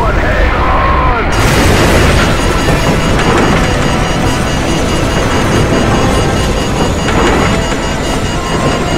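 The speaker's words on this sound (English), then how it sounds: "What appears to be an explosion of epic proportions." A huge nuclear blast in Call of Duty 4: Modern Warfare thunders as a loud, sustained roar with a sharp onset, then rumbles on without letup for several seconds.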